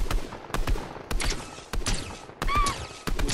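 Fortnite gunfire in a Zero Build squads match, a rapid irregular series of sharp shots and short bursts popping at moderate distance, with a faint tonal chirp in between.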